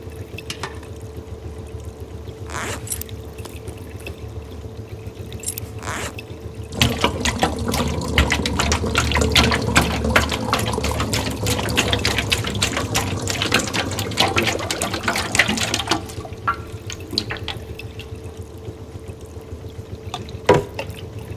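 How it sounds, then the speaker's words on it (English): Water gushes and churns as a pump drains a flooded basement in Conway: Disappearance at Dahlia View, a steady rushing flow that swells loudly in the middle stretch and then eases back to quieter trickles and knocks. "pump is set to clear the basement of water."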